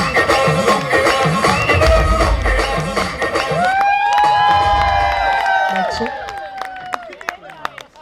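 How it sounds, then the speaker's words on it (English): A crowd at a wedding sangeet cheers and claps loudly after a dance performance, with shouts and whoops rising over fading music and people calling out. "So a huge round of applause for Mama and Mami"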